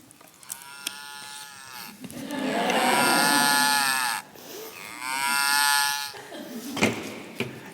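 Cow mooing sound effect from a magic staff: two long, loud moos, each about two seconds, with quieter rustling and thumps around them.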